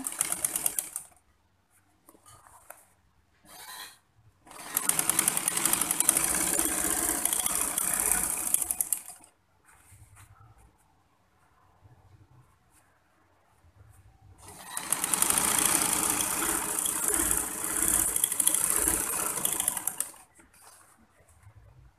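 A sewing machine stitches a back-pleated flared skirt in two loud, steady runs of several seconds each, with quiet pauses and brief short bursts between them.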